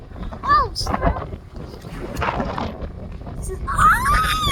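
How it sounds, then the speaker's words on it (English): Strong wind gusts buffet the microphone outdoors in a steady low roar, with a person talking loudly over it throughout. "it's really windy today"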